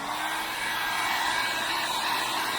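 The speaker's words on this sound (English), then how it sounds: "now I'm taking my trusty heat gun" A trusty heat gun blows steadily on carved foam for a yard gargoyle, shrinking and hardening it; a loud, continuous airy roar holds evenly throughout with no pauses and no talking.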